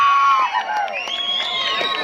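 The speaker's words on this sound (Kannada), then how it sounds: "ಬನ್ನಿ ಜೋರಾದ ಚಪ್ಪಾಳೆ" An audience at a felicitation ceremony during a Manteswamy folk drama performance breaks into loud cheering, with overlapping shouts and whoops from a crowd. Little distinct clapping stands out beneath the voices.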